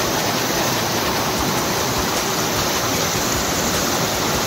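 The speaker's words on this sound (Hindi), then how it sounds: "ऊपर से पत्थरों से पानी आ रहा है जो नीचे की तरफ जा रहा है" Cold water rushes and splashes steadily down over rocks in a forested mountain stream, a loud, constant roar of flowing water close at hand.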